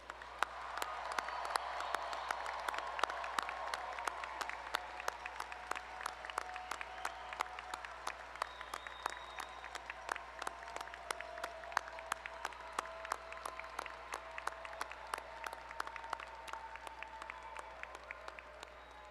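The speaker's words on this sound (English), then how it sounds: "Let's have one more round of applause for all our graduates." A crowd applauds graduates at a university art and design commencement ceremony, sustained clapping that swells early and then thins into scattered sharp claps, heard from across a large hall.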